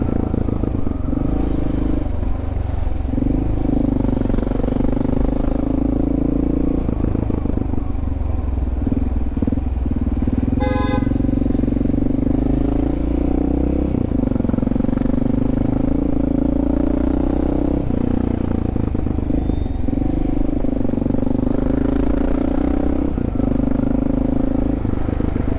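A motorcycle engine rumbles during slow, stop-and-go city riding, its steady drone rising and falling with gentle throttle changes, close and continuous, with faint clatter and no talk.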